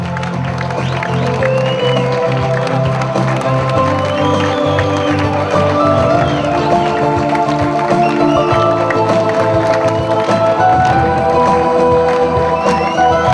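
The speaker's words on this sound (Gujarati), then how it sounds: "તાળીઓનો ગડગડાટ ચાલુ રાખીશું આપણે સૌ." A crowd at an annual school programme ceremony claps and cheers loudly and continuously, with whoops and children's shouts over music-like tones in the background.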